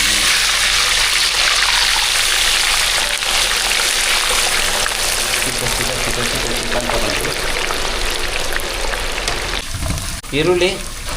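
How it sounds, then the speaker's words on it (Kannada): Onions frying in hot oil in a pan for a jackfruit curry: a loud, steady sizzle lasting throughout, easing slightly before a few close spatula scrapes and stirs near the end. "ಇವಾಗ ಇದನ್ನು ಬಿಸಿ ಬಿಸಿ ಎಣ್ಣೆಗೆ ಈರುಳ್ಳಿ"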